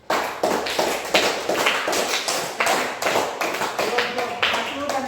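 A classroom of students bursts into applause, with dense, lively clapping that holds throughout as nearby voices murmur and call out underneath.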